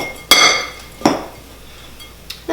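Sweet potato casserole being mixed with softened butter in a bowl: three sharp utensil clinks against the bowl, spaced about a second apart, with quiet scraping between them and no talk.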